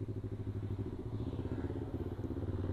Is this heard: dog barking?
no